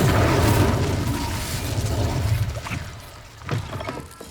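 Fiery spell cast in the wizarding game Hogwarts Legacy, a loud roaring burst with crackling that fades over a few seconds before a second smaller flare near the end.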